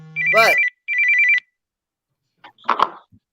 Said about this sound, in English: It's my phone ringing.